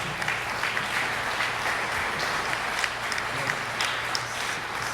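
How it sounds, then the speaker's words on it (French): A crowd at a fundraising event applauds with dense, steady clapping that carries on evenly throughout, with no talking over it. "Ça mérite une main d'applaudissement"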